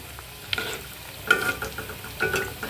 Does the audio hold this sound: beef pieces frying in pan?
yes